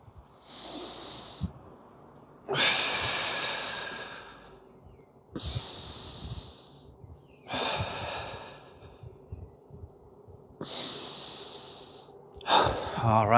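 Slow, deep breathing during a hip mobility exercise routine, several long, loud inhales and exhales close to the microphone, evenly spaced and separated by short quiet pauses.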